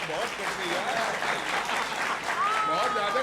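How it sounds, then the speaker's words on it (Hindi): An audience claps steadily and warmly throughout, a dense sustained round of applause at a political comedy segment on a parliament session, with no talking over it. "थोड़ा तालियों से इनको बताइए"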